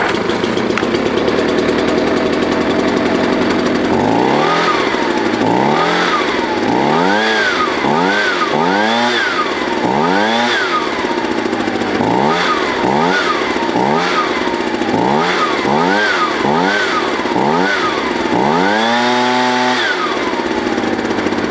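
A Ryobi BP42 leaf blower's small two-stroke engine, freshly tuned at the carburetor, idles loudly close by, then revs up repeatedly in quick rising and falling bursts, ending with one longer rev.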